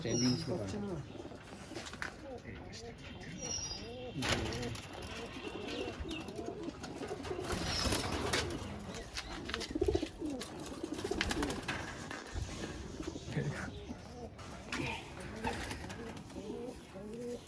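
Several pigeons coo in a home loft in Barasat, a steady chorus of low, rolling murmurs with clicks and rustles throughout, while people talk nearby.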